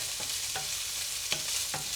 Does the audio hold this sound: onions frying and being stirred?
yes